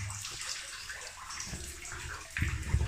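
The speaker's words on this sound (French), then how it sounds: "il y a du goutte à goutte" Spring water inside an old temple falls and splashes in a steady broadband wash, fairly close, with heavier low rumbles and handling bumps toward the end and no talking.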